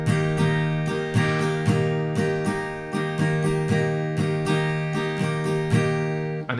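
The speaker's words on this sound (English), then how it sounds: "So this is it once more in a straight rhythm." Acoustic guitar chords strummed in a straight down-down-up-up-down-up pattern, a clear ringing repeated bar after bar at an even tempo, close and alone with no voice.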